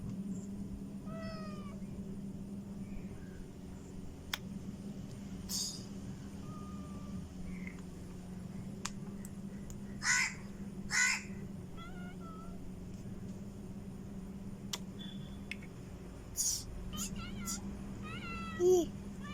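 A cat lets out several short, scattered meows over a low steady mechanical hum, with a few brief sharp sounds between calls; the meows are faint to moderate and spaced irregularly across the stretch.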